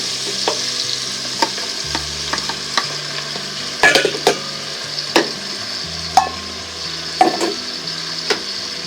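Carrot and konnyaku tipped into a pan of cooking chicken for Japanese nimono, with steady frying sizzle and a run of sharp stirring knocks and scrapes of chopsticks or a utensil against the pan, close and clear with no talk.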